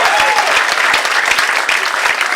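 A comedy club audience claps and cheers loudly with dense, continuous applause that fills the room for the whole stretch.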